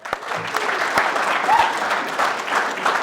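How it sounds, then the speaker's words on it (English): A crowd at a bass fishing tournament claps steadily for a few seconds for the anglers, with scattered sharp claps standing out from the dense, even applause. "Give these anglers a round of applause."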